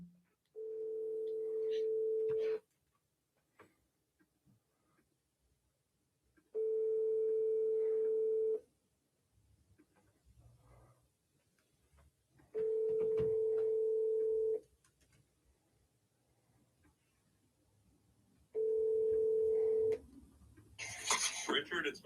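A phone call rings out while waiting for an answer, four steady electronic ring tones about six seconds apart with quiet background noise and faint voices between them.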